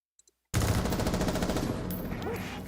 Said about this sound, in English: Like the gunshots are punchy.